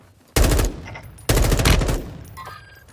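Two loud, close bursts of automatic gunfire in Warzone 2, each a rapid stream of shots lasting under a second, followed by fading echoes and faint game sounds.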